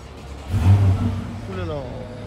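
A Porsche drives by on a Monaco street at night, its engine swelling and then rising in pitch as it accelerates past at moderate distance, over a busy street hum with people talking nearby.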